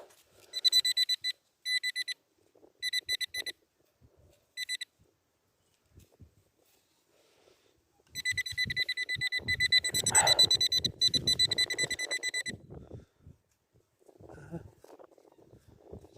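A Nokta Legend metal detector sweeping sandy ground emits short bursts of high electronic beeping, several clipped groups at first, then a longer sustained run of beeps mixed with scraping and digging noises, fairly faint overall.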